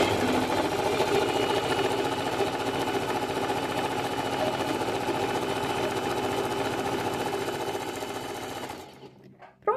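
Sewing machine stitching a one-step buttonhole, running steadily at full speed forward and back for about nine seconds, then stopping abruptly near the end.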